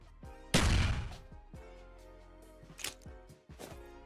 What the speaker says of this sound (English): Some explosion VFX.